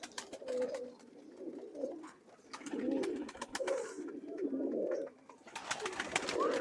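Banaras pigeons cooing close by: soft, low, throaty coos repeat in uneven bursts at a quiet level, with no talk.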